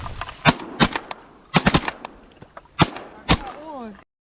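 Shotguns fire at gadwall ducks over a saltwater marsh, sharp loud blasts in quick bursts of two and three spread over several seconds, with a duck call quacking near the end.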